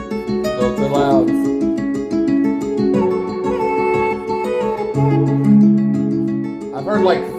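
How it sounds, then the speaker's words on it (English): A hip-hop beat plays steadily throughout, with layered looping melodic and bass parts at a fairly loud level; no speech is heard over it. "I've heard like 400 beats that sound like this."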